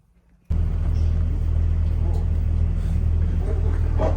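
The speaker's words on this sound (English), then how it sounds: "So we're starting our bus trip." A tour bus engine starts and rumbles loudly, a steady deep drone that cuts in abruptly after a brief quiet moment, close to the listener.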